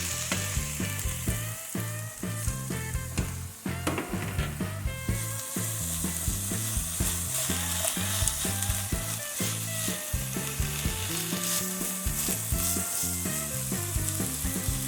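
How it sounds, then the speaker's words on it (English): Eggplant sizzles steadily in hot oil in a pan, close and continuous, with repeated metallic stirring clinks and scrapes throughout and no talking. "now we're going to add our eggplant into our hot oil and let that cook down for about 5 to 7 minutes"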